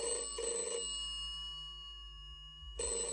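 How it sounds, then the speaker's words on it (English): An office telephone rings in two bursts, an opening double ring and another starting near the end, with a quiet pause between, clear and close. "Last Wednesday morning, Bill rang his office at 9 o'clock"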